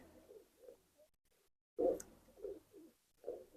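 Homebred teddy pigeons coo softly in short, repeated low burbles, with one louder close coo near the middle, set against a quiet background.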